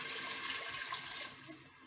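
Water pours steadily into a cooking pot already holding carrots, peppers and tomatoes, for fish sayadeya rice; a continuous close rushing stream that eases off slightly near the end.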